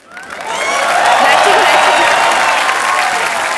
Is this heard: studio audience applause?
yes